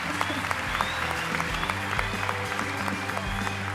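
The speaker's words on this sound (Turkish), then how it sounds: "Alkışlarla uğurluyoruz Esra'yı." A studio audience applauds on a Turkish TV singing talent show, dense sustained clapping throughout with some crowd noise and voices mixed in.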